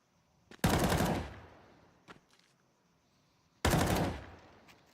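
Two loud, close bursts of rapid automatic rifle fire in the competitive shooter Counter-Strike, each lasting about half a second, with a faint single shot in between and near-silence around them.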